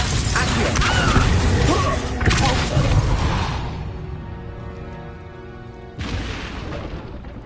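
Confringo blasting spell going off in a Harry Potter video game: a loud booming explosion with crashing debris that rumbles and decays over several seconds, then a second heavy burst near the end.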